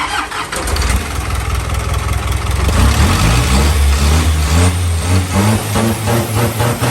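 A large diesel six-wheel truck engine cranks and catches, then rumbles loudly and revs up in pulsing bursts, close by with no voices.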